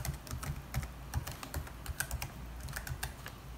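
Rapid, continuous clicking of computer keyboard keys as a Wi-Fi password is entered while setting up Linux Mint, close and clear with no talking.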